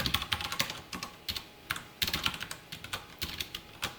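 Code is being typed on a computer keyboard: quick, irregular bursts of crisp key clicks, close and fairly quiet, with brief pauses between runs.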